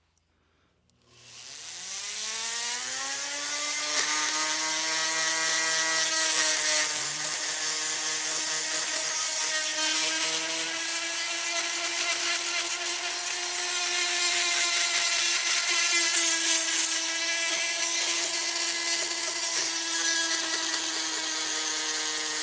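A high-pitched rotary tool with a sanding tip whines steadily after a brief start, grinding an aluminum LS1 cylinder head with a shrill motor tone, continuously and loudly for the whole stretch with no talking.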